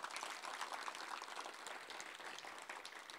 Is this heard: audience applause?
yes